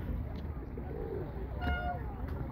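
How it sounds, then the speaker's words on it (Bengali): Pigeons coo softly in a park by a small flowing stream, a few low calls rising over steady running water and faint background murmur. "অনেক কবুতর এখানে"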